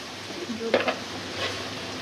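Spices stirred into sizzling onion and oil in a pan for Rui fish curry: a soft steady fry with a few close spoon scrapes clustered together, then a quieter hiss.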